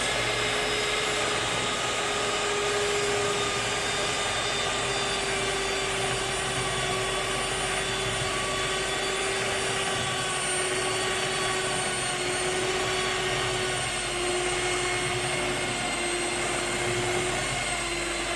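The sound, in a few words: electric mixer kneading bread dough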